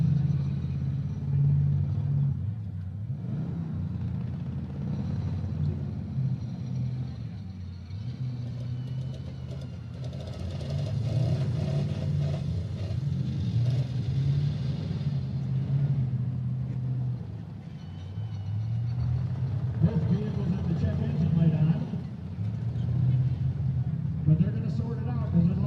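Race cars circle a dirt track on a foggy night, giving a steady, distant engine rumble that swells and fades as the cars pass, under continuous announcer talk.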